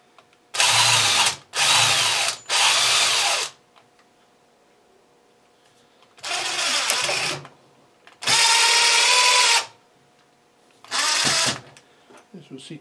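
A power drill drives wood screws into a piece of wood clamped in a vise, whining in five or six separate bursts of one to two seconds each with quiet gaps between them.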